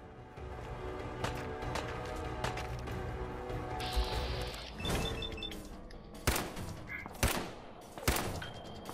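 Gunfire in Fallout 4: a mechanical, creaking background with intermittent sharp shots, three distinct loud cracks spaced about a second apart near the end, fairly close.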